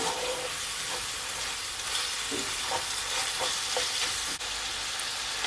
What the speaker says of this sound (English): So now I'm gonna add my ackee.